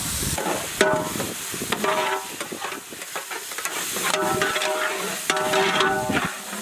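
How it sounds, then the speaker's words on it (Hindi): Finely chopped tomatoes go into a frying mutton curry masala with green chilies, bringing a steady hiss and sizzle punctuated by repeated scraping stirs of a spoon against the pan, with no talking. "ग्रीन चिली ऐड करने बाद हम लोग इसमें फाइनली चॉप्ड टमाटोस डालेंगे।"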